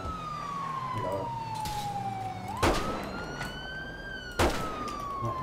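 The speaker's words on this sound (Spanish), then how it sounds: "¿Puedes apagar la sirena que veo?" Police car siren in GTA V, a loud wailing tone that sweeps down slowly, jumps back up and falls again, with two short bursts, heard close under a chase.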